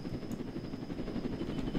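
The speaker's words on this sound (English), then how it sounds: "Wait, there's helicopters." A helicopter in the Roblox Jailbreak video game, a steady whirring rotor drone holding at an even level throughout, with no voices over it.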